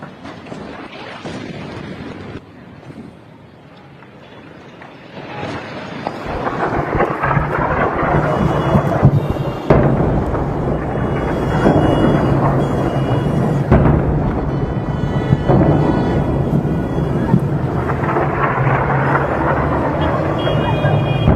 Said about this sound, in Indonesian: Di kota Tehran, warga juga merekam serang udara yang intensif.